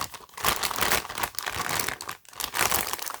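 A DeWALT plastic goggle bag crinkles and crackles as it is handled up close, in steady bursts of rustling with a brief pause partway through.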